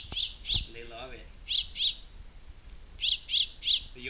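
A baby bird being hand-fed egg yolk gives sharp, loud squawks in short bursts of two or three, with a few brief human sounds between the calls.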